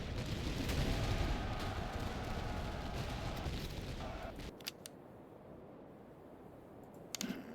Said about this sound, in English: let's try some grenade again then